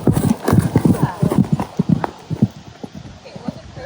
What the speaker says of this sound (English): Doing a little warm up, starting at the trot.